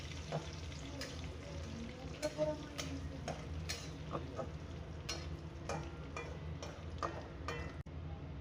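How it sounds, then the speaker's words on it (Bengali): Cumin and spices fry gently in a pan over a low flame, a faint continuous sizzle punctuated by a series of light spoon taps and scrapes against the pan. "ধীরে করে হালকা হালকা করে ভেজে নিতে হবে।"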